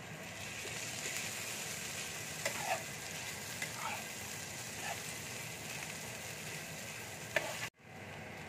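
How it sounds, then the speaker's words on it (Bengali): Potatoes frying in a pan with onions as a Bengali-style snack cooks, giving a steady broadband sizzle with a few soft stirring scrapes throughout, ending abruptly near the close. "এবার আমি আলুটা দিয়ে দিচ্ছি।"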